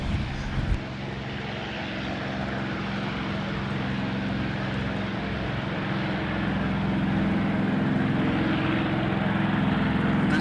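A P-51D Mustang propeller fighter flies at an air show, its engine a steady broad drone that swells slightly louder as it goes on, with no voices over it.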